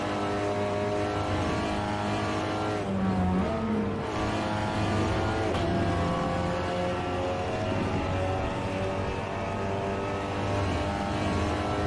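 Simulated race car engines from the iRacing video game drone and rev in a continuous layered whine, with shifting pitch and a brief tire-squeal moment partway through, steady and moderately loud with no talk.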